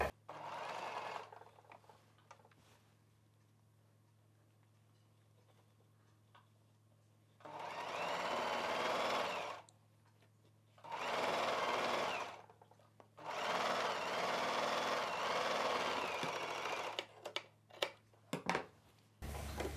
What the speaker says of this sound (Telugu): ఈ ఎక్స్ట్రా పీస్ని లోపల వైపునకి ఫోల్డ్ చేసి కుట్టు వేసేసుకోవాలి